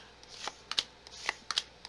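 Tarot cards being shuffled and laid out for a reading, a few quick papery riffles and soft slaps coming close together over a quiet background.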